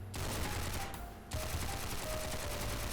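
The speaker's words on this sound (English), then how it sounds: "I'll try using this assault rifle on them instead" Rapid assault rifle fire in the GoreBox video game, a steady loud automatic stream with a brief pause near the middle before the shooting resumes.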